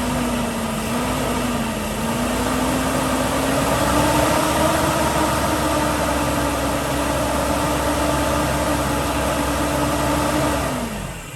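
A fuel-injected Nissan Z24i engine is held above idle, a steady, loud hum whose pitch rises slightly and holds, then drops back toward idle at the end.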